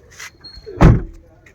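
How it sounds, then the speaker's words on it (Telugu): A single door of a 2015 Maruti Suzuki Ertiga VDI thunks shut with a solid clunk, preceded by a brief latch click and faint rustle, close by. "డోర్ సౌండ్స్ కూడా చూసుకోవచ్చు"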